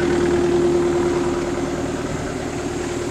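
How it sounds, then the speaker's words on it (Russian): A Kubota RX505 excavator's four-cylinder Kubota diesel engine idles steadily and loudly nearby, a constant low rumble with a faint whine, unchanging throughout. "Дизель 4 цилиндра. Обычный куботовский мотор."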